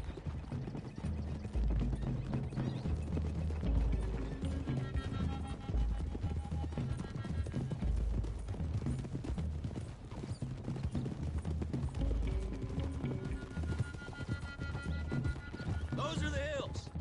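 Horses gallop in the Red Dead video game with steady, dense clip-clop hoofbeats, an occasional whinny and neigh rising above them, all set under a constant bed of ambient game sound.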